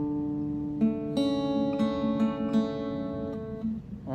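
Guitar strings picked up close, single notes and small chord plucks ringing out one after another with clear sustained harmonics at a moderate volume, no talking.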